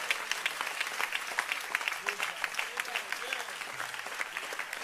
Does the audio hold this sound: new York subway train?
no